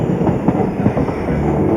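An Egyptian passenger train rolls south toward Aswan from Luxor, its steady rumble and rhythmic clickety-clack of wheels heard loudly from on board.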